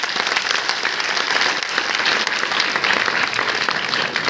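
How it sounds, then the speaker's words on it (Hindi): Dense, steady applause from an audience at a national-level awards event at Punjab University in Chandigarh, loud and sustained throughout with no talking over it. "अब आप लोग क्लैप कर रहे हो,"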